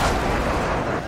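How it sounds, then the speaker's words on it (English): Airstrike explosions from a friendly strike in Modern Warfare 2, a dense rumbling roar of blasts sustained for about a second, loud and continuous with no speech over it. "Friendly airstrike inbound"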